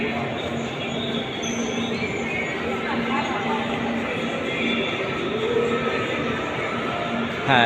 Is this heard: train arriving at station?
yes